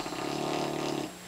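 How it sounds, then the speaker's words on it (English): A sleeping dog snores in one drawn-out, raspy inhale with a buzzing, throaty rattle, close and fairly quiet, fading off at the end. "the dog is snoring"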